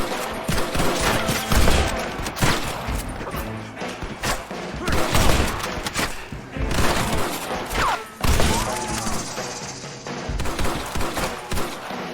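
Dense, continuous gunfire in Red Dead Redemption during a bank shootout against fleeing outlaws and window snipers: overlapping rifle and pistol shots crack in rapid, ragged volleys at close range with heavy thuds, steady for the whole stretch.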